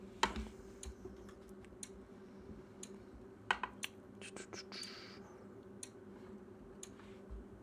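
Relay coils in a PLC-controlled lamp circuit click on and off, producing faint, sharp, irregular ticks against a quiet background hum, with soft talk in the background.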